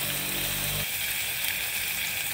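Onion sizzling in hot oil with mustard seeds, cumin and garlic for a brinjal and white lobiya kulambu, a steady close frying hiss with a low rumble that drops away after the first second.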